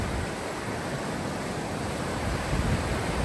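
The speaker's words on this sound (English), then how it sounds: "this river is really cool. A lot of rushing rapids." Rushing river rapids with a small waterfall along the Appalachian Trail near Damascus, a steady, dense broadband roar of moving water that holds constant and fairly close throughout.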